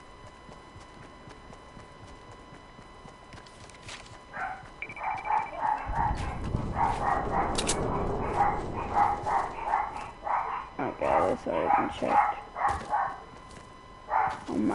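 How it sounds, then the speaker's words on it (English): A dog in a streamer's room barks repeatedly in clustered bursts over game sound, and a voice speaks briefly. "Oh my god, my dog."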